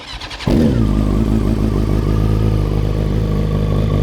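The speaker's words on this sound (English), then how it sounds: "That is the Aero full titanium exhaust." A BMW M 1000 XR motorcycle fitted with an Akrapovič full titanium exhaust fires up and revs loudly, a deep, close, sustained engine roar with no talking.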